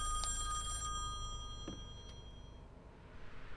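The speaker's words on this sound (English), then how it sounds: "Phone is too loud." An old telephone bell rings loudly inside the horror video game Song of Horror, sounding as a harsh metallic jangling burst that cuts off, followed by a quieter ambient hum and a faint clack.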